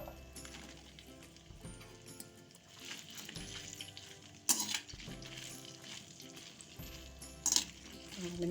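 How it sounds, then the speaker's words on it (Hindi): About 250 grams of okra (bhindi) frying in hot oil in a pan, a low steady sizzle under occasional spatula scrapes and two sharp metallic clinks, quiet and close, no talk. "अब इसमें हम भिंडी डाल देंगे"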